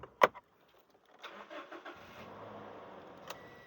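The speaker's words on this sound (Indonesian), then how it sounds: "kita kasih bunyi mesin." A car engine cranks and catches after a sharp click, then settles into a low, steady idle close by, at a car auction in Palembang.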